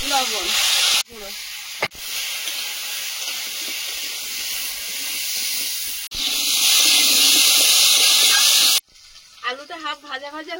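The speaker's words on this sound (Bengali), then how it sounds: "আলুটা হাফ ভাজা ভাজা হয়েছে" Potatoes fry in leftover fish-frying oil with black cumin, slit green chillies and salt, a loud, continuous close hiss and sizzle broken by short pauses, with faint talk at the end.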